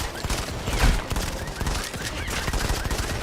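Dense game gunfire from Modern Combat 5, a steady run of overlapping shots and bursts filling the whole stretch at fairly loud level, with a brief heavier blast near the start.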